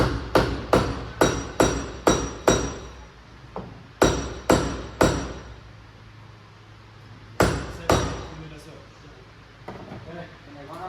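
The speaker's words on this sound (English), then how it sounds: "Give me the hammer there, bro." Hammer blows on the drivetrain of a BMW E30 333i during separation, sharp metallic strikes in quick bursts of several, then a pause and a few more, close and loud, with voices talking in the background.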